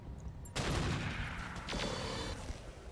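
Mech weapons discharge in the RogueTech BattleTech game: a loud, dense volley starting sharply and running continuously for a few seconds, with a second burst layered in partway through, no voices.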